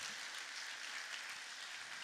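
Steady broadband applause from a church congregation fills the space, a dense even wash of many hands clapping at moderate distance with no talk over it.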